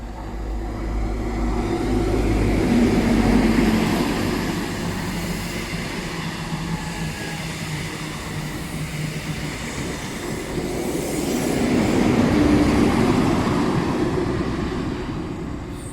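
A Castle-set train rumbles steadily through a station on the Taunton to Bristol line, a loud continuous roar and rattle that swells, eases, then swells again over about sixteen seconds, with no talk.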